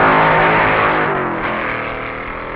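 A supercharged drag racing car at the 1961 NHRA Winternationals roars in a steady, loud, distorted engine drone that slowly fades over a couple of seconds.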